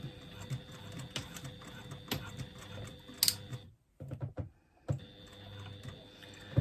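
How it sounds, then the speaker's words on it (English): A sewing machine runs close by, stitching the seam allowance of a retro clutch lining with a steady mechanical whir. It stops briefly partway through for a moment of near silence, then starts stitching again. "I'm just going to stitch down 1/8 of an inch either side of"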